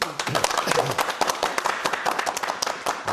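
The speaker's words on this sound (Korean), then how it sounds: "교수님께 박수 한번" Dense clapping from an audience for a professor after a history lecture, steady and fairly loud throughout, with some voices mixed in.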